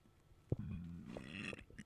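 A single close burp into a microphone, a sudden onset followed by a low, drawn-out rumbling croak lasting about a second, with no talk over it.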